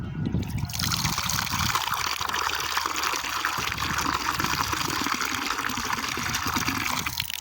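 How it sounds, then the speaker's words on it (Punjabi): Water runs steadily into a bottle, a continuous close trickle and gush lasting throughout with no talk over it. "ਹੁਣ ਭਰਦੇ ਵਿੱਚ ਪਾਣੀ"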